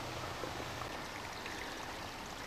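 Rainwater seeping from a hillside runs down the edge of a country road in Glen Douglas, giving a steady, close trickling wash with no pauses.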